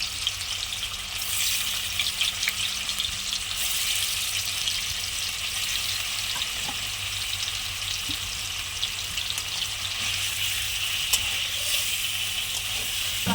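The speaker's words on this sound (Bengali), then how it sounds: "এই যে পনিরগুলো ছেড়ে দিলাম তেলে" Pieces of paneer fry in hot oil in a pan, a steady, dense crackling sizzle that holds close and even throughout with no talking.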